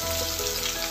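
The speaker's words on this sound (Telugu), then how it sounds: "ముందుగా మనం ఆయిల్లో పోపు విద్దులు ఉల్లిగడ్డ వేసుకొని ఫ్రై చేసుకోవాలి." Onion and tempering seeds frying in oil in a pan for a ridge gourd curry, a steady close sizzle that fills the whole moment with no talk.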